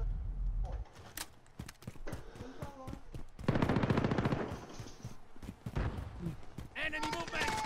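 Bursts of automatic gunfire in Call of Duty: Modern Warfare, rapid rattling volleys mixed with scattered single shots and game effects, with a voice briefly heard among them.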